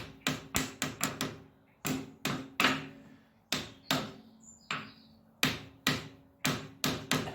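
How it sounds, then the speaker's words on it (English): Repeated hammer blows tapping an oil seal into the rear axle housing of a Kubota B series tractor with hydrostatic drive, about twenty sharp metallic knocks in irregular bursts with short pauses, close and fairly loud, with no talking. "it's going to have to be a basic hammer, which actually is going in pretty easily."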